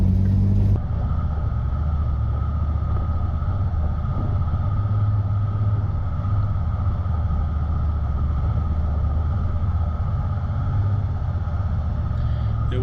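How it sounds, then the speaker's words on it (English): A 4WD vehicle drives at a steady throttle along the Humffray River Track, a worn gravel track in the Victorian High Country, producing a continuous close engine rumble with gravel and road noise underneath and no talking. "just keep your throttle steady and let the vehicle and tyres do their work"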